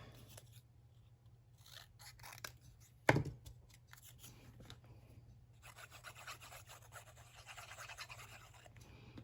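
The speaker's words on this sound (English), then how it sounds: "I have this scrap piece also, which we'll just trim down a teeny little bit" Scissors trimming a scrap piece of cardstock, a brief close snip with a sharp cut around the middle, surrounded by soft rustling and handling noise against a steady low hum.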